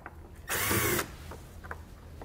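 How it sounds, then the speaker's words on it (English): A ratchet fitted with a T20 Torx socket loosens fasteners on a hidden rack hitch receiver, giving one short, loud mechanical burst lasting about half a second, followed by quieter handling noise. "we're going to remove those with a T20 Torx socket"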